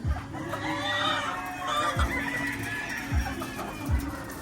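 Laying hens being fed chatter in soft, steady clucks close by, with a few low thumps roughly once a second and faint background noise. No clear talking.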